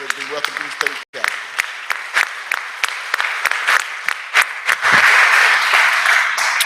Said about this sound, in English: Would y'all please give them a round of applause